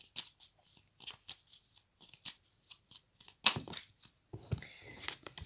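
Tarot cards being shuffled and drawn by hand, a series of quick close papery riffles and snaps in irregular bursts, ending in a longer run of shuffling, with no talking.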